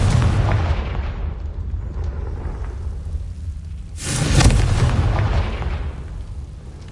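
A Confringo spell explosion goes off in the video game Hogwarts Legacy: a single loud, broad boom bursts out midway and rolls off slowly over a steady low rumble of game ambience.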